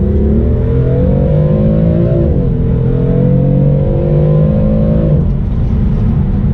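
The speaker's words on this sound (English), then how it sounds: "the outrageous noises this car makes, really" A BMW F82 M4 engine revs and pulls hard, heard from inside as a loud, continuous roar that rises steadily, dips briefly on a shift, then climbs again before easing off.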